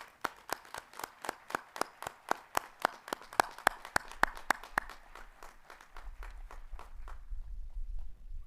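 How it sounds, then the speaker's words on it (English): Clapping at a Western Illinois University spring commencement and hooding ceremony, sharp evenly spaced claps in a steady rhythm, close and distinct, fading into a low rumble of crowd noise toward the end. "if you could please appreciate all that they've done with a round of applause"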